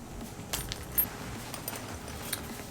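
Car keys jangle faintly in a handbag, a few soft metallic clinks and rattles over quiet background rustle.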